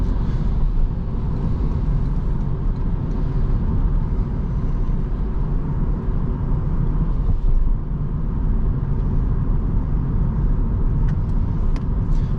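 A 2024 Toyota Yaris Hybrid small car on a test drive, heard as a steady, loud interior drone of road and engine rumble that holds evenly throughout, with no talking.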